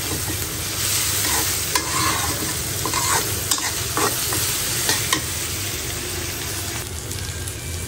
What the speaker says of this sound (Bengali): চিংড়ি ভাজা শেষ